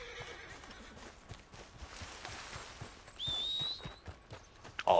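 Horse in Red Dead Online whinnies loudly over a steady clip-clop of hooves, with a sharp shrill neigh rising midway and a brief louder burst near the end.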